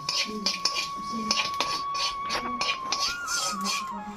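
Cumin and five-spice seeds tempering in a pan over very low heat for an amla pickle, stirred with a metal spoon that clinks and scrapes against the pan in an irregular rhythm, with a faint steady whine underneath.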